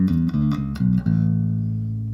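A bass guitar plays a few quick plucked notes of a major scale in closed position, then one last note rings out and slowly decays, close and alone.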